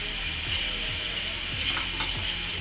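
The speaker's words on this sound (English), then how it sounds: "we're going to let the garlic brown up a little bit" Garlic and green onions sizzle in a pan, a steady, close, even frying hiss with no voices over it.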